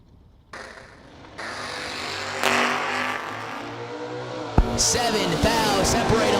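Door-slammer drag cars, including a Camaro, rev and launch at a drag strip, with engines building from a low rumble to loud roaring acceleration, a sharp burst partway through and faint voices in the background.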